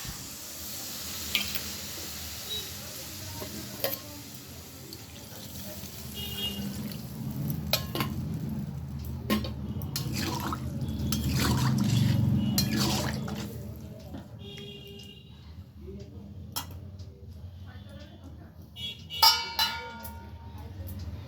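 Water poured into a pot of fish curry with rohu-type mrigal fish, cauliflower and potato, giving a broad liquid wash that swells mid-clip, with scattered drips, clinks and light stirring sounds around it.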